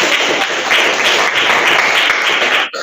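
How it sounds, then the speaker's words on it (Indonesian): A classroom audience claps for a group presentation in a steady, dense burst of applause that runs nearly three seconds at close range before cutting off. "Kita berikan tepuk tangan untuk kelompok 1."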